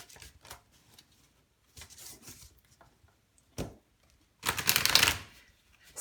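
Tarot cards being gathered and covered on a table, heard as soft papery shuffles and rubs in short separate bursts, ending in one longer, louder riffle of cards handled close by.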